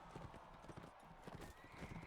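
Horse hooves gallop in the video game Mount & Blade: Warband, a steady, rapid clip-clop run at low volume over constant background noise, with a hint of a whinny.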